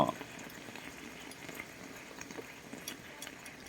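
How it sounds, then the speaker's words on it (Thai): A moka pot brews coffee on the stove, giving a faint, steady hiss and soft bubbling as the water is pushed up through the grounds, with no voices over it. "นี่กาแฟมันจะไหลออกมา น้ำจากข้างล่าง นะครับ มันจะดันขึ้นมาข้างบนหมดเลยนะครับ"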